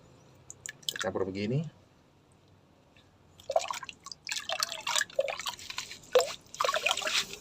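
Moringa liquid fertilizer waste is poured and stirred into about ten liters of water, giving close, wet splashing and sloshing in uneven bursts, with a short stretch of voice before the mixing.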